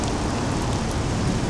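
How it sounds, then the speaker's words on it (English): Steady rain falls in a fantasy role-playing game, a dense even hiss that fills the short stretch with no voices over it. "Oof, that rain."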